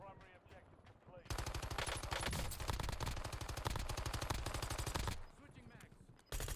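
Rapid automatic gunfire from a military shooter video game, a sustained loud burst lasting several seconds before cutting off, with a brief quieter stretch and a renewed shot at the end, over faint voice chatter.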